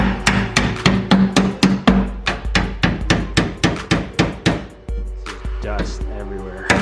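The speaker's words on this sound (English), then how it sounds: "I'm just gonna hammer these tabs in." Metal tabs hammered in during a dusty teardown job, a steady run of about twenty sharp, evenly spaced strikes at close range, easing into lighter tapping and scraping toward the end, with no talking.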